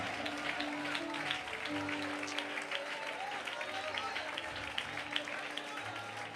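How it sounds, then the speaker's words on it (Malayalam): A church congregation at a Malayalam Christian sermon bursts into sustained applause, dense clapping filling the room steadily throughout, with voices mixed in. "കമോൺ, അതിനെ കൈയടിക്കാൻ ആരെങ്കിലും ഉണ്ടോ?"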